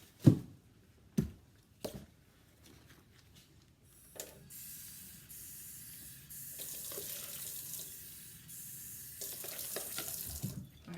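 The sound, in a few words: kitchen sink tap running water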